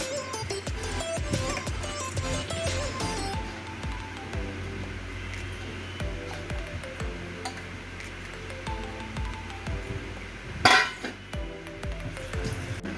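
A spatula stirs an onion, garlic, cashew and almond mix in a wok, making light, irregular clinks and scrapes over steady background music.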